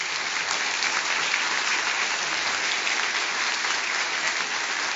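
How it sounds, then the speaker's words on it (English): Steady, dense applause from an audience at a health policy forum honoring award winners, sustained and even throughout with no voices over it. "Please give them a round of applause now"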